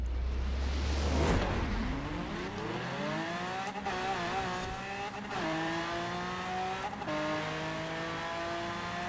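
In a racing video game, a drag car's engine launches, then screams at high revs with repeated brief cuts as it bounces off the rev limiter. The drone is loud and continuous, with some tire squeal at the start.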